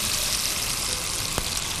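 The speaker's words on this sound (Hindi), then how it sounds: "इसको पकाने के लिए मैं थोड़ा सा पानी इसमें शामिल करूंगी।" Water pours into a pan of chicken thigh pieces cooking on the stove, a steady broad hiss of liquid hitting hot fat that runs through the whole moment, with one brief sharper tick near the end.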